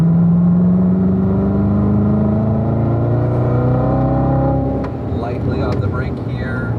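Chevrolet Corvette engine on the Spring Mountain race track, a loud steady drone that climbs in pitch as the throttle is squeezed back in, heard from inside the car, easing slightly near the end.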